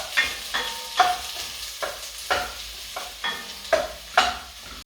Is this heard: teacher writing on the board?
no